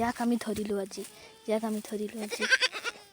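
A goat bleats close by in wavering, nasal cries, two drawn-out calls with a short pause between them.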